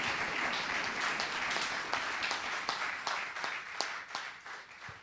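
A church congregation breaks into sustained applause, dense clapping filling the room steadily for several seconds before thinning slightly toward the end.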